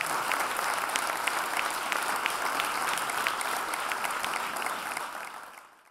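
A church youth meeting audience in Mumbai applauds loudly, dense crowd clapping that holds steady for several seconds before fading out at the end.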